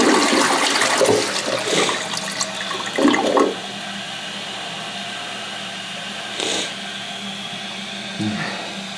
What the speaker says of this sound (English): We're gonna give it a flush and see what happens.